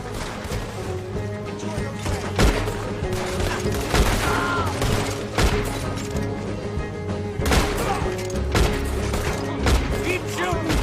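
A Red Dead Redemption 2 gunfight: dense, continuous gunfire with sharp shots and crashes over a game soundtrack, with characters shouting at times.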